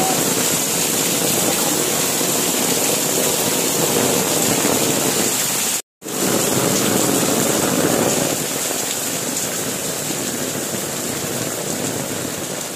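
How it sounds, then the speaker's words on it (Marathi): Torrential rain pouring down during a monsoon outing, a loud, unbroken wash of noise throughout that cuts out for an instant partway through, with no voices. "तुफान पाऊस आहे."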